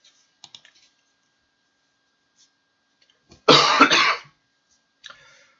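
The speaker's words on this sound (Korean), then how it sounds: "자꾸 기침이 나와서" A single loud burst of coughing, close and dry, lasting about a second, alone against near silence with a few faint keyboard-like clicks before and after.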